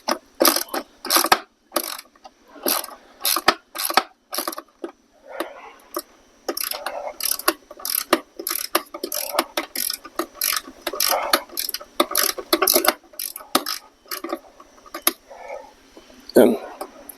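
A ratchet works a bolt loose on a Honda CT70 trail bike, sharp close clicking bursts repeating in quick runs, with someone talking between and under the ratcheting.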